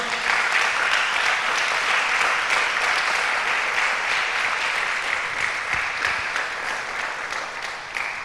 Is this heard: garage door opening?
no